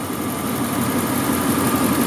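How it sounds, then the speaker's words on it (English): A 1994 Lexus LS400 engine idles with a smooth, steady, even hum, continuous and unchanging at close range with no voices. "it's definitely a smooth running engine"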